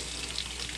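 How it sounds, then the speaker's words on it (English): Water from a kitchen sink tap runs steadily over leeks being rinsed, a close, even hiss with no pauses and no voices. "you want to take it over your sink and just want to kind of gently run through the leeks."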